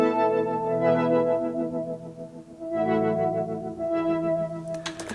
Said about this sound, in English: at the end there's the synth brings like a high melodic part in